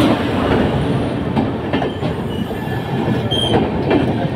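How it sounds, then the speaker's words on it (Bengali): A train rolls into a station on the way from Malda to Tarapith, wheels squealing and rail clatter filling a steady, loud rumble, with sharp metallic screeches near the end and no voices. "তারপর ট্রেন আসলে আমরা ট্রেনে উঠে পড়ি"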